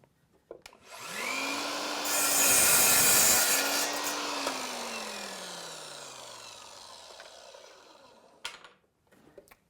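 A miter saw spins up with a rising whine and cuts square wooden leg stock at 8 degrees for a shop stool. The close, loud cut lasts a few seconds before the motor winds down alone.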